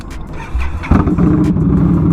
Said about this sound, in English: just a fair warning before I fire this bike up, this exhaust is incredibly loud